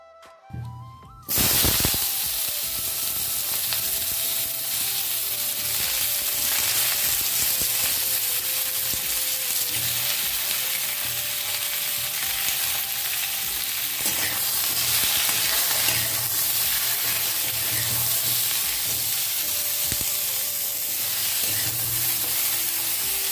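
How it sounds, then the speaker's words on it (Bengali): Oil heating in a wok gives a steady, loud broadband sizzle and hiss that starts abruptly after a brief quiet moment and holds unbroken for the rest of the clip, with no talking. "কড়াতে 2 দশম তেল দিলাম"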